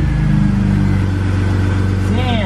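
BMW E46 engine revving, a loud, close, rumbling drone that holds steady, with some voice-like sound mixed in toward the end.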